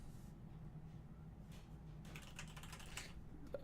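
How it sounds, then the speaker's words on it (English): Typing on a computer keyboard, quiet at first and then bursts of rapid close key clicks in the second half, over a low background hum. "Where am I typing?"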